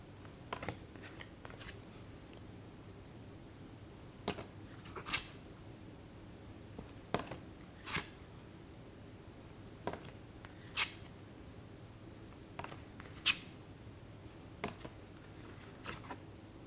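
Oracle cards being shown one by one, giving scattered soft slaps and flicks of card stock at irregular intervals over a faint, steady room hum, with no talking.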